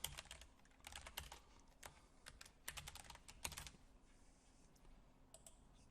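Fast bursts of typing on a computer keyboard while filling in an account sign-up form, crisp close key clicks in irregular clusters with short pauses between them.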